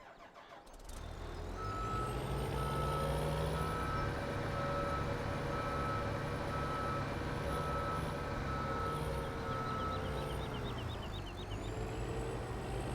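A truck in Farming Simulator 17 reverses while being loaded, its steady reversing beeper pulsing over a continuous loud engine drone with a brief rise in pitch near the end, no talk.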